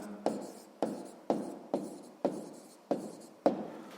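Pen strokes writing out a sixth-grade math solution on paper, a steady series of about seven short scratchy strokes, each starting sharply and trailing off, close and fairly quiet with no talking.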